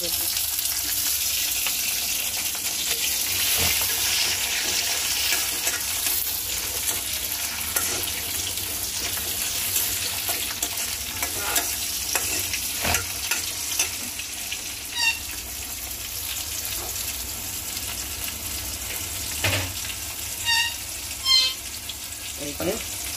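Golden-browned onions and tomato frying in a pan, a constant bright sizzle with occasional scrapes and clinks as the mix is stirred, close by.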